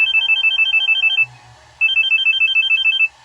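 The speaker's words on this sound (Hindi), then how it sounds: "फोन बजा।" A phone ringtone trills in two bursts of rapid, repeating electronic tones, separated by a short pause, loud and close.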